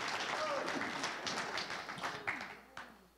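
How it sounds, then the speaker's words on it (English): An audience at a South Carolina Tea Party event applauds a panel welcoming three women to the stage, a dense clatter of clapping that thins and fades over a few seconds, with some voices mixed in. "Let's give them a round of applause."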